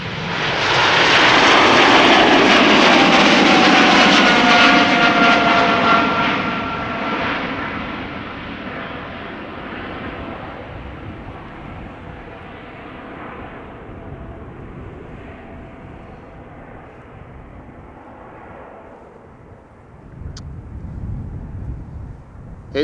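A jet airliner thunders off an Amsterdam Schiphol runway. The engine roar peaks loud and close in the first seconds, then fades steadily into a distant rumble, with a brief rise of noise near the end.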